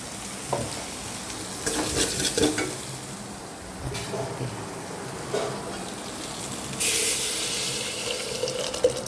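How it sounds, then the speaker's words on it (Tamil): Cumin seeds and black pepper hit hot oil in a pan, giving a steady close sizzle and crackle with some stirring and clatter, with no talking. "சீரகம், மிளகு கொட்டி வச்சுருக்கிறத கொட்டிக்கலாம். எண்ணெய்க்குள்ளேயே போட்டுக்கலாம்."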